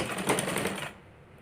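Sewing machine stitching along the edge of a blouse, with a fast, steady mechanical whir for just under a second that then cuts to a faint hum.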